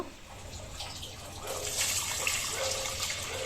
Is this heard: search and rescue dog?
no